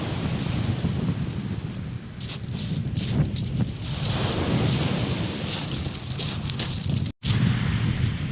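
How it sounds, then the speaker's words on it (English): Strong wind buffets the microphone on an open sea shore during a bull huss fishing session, a loud continuous roar with gusting surges and broad rushing noise throughout, a brief dropout near the end. "it's quite windy, quite hard to settle these scales down again because the winds are horrendous"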